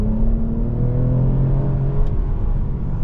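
A 2023 Toyota Camry TRD in normal mode accelerating hard and breaking traction, a loud, continuous engine drone and tire whir heard close from inside the car, with no talk.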